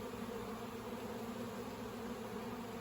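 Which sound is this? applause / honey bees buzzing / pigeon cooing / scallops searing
honey bees buzzing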